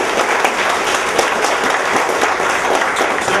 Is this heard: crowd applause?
yes